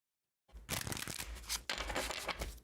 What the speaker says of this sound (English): Let's do one more shuffle for Leo.